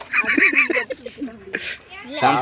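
Harsh, loud squawking and honking calls from a native country chicken, a rapid series of nasal cries, with a voice briefly joining near the end.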